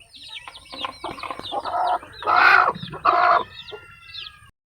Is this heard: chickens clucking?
yes